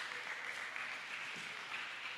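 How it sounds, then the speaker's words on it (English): An audience applauding a speaker taking the stage at a Bitcoin conference, a dense, even wash of clapping from many hands, distant and fairly quiet, sustained throughout. "Please, a round of applause."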